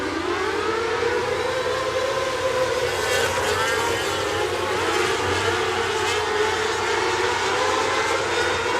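Winged sprint cars roaring around a Southern Illinois dirt oval on a restart back to green: a loud, continuous, droning engine wail from several cars at once, steady throughout with no talk.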